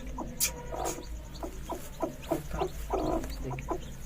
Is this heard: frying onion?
no